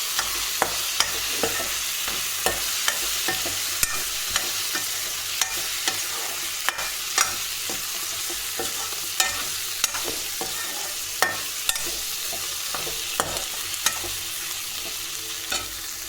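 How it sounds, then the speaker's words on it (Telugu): Chicken coated in ginger garlic paste fries for an Andhra-style curry, with a steady sizzle under repeated sharp scrapes and clicks of a stirring spoon against the pan, at close range with no voices. "చూడండి ఎలా ఫ్రై అవుతుంది."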